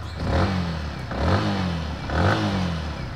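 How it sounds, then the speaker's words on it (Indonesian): A Yamaha WR155R motorcycle with a VVA engine revs three times in even bursts, each rise and fall clear and close over a steady idle. "Khas banget suara mesin modern, suara mesin VVA-nya Yamaha."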